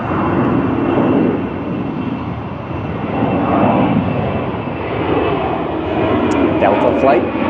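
Delta airliner passing over Spokane: a steady, broad jet roar fills the scene throughout, rising and falling slightly, with a voice talking over it outdoors.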